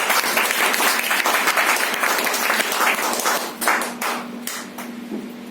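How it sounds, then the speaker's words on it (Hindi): Loud, dense applause from a large crowd at a training event in a hotel that keeps going, then thins out into scattered claps toward the end. "एक बार जोरों तालियां बनती हैं आप सभी लोगों की"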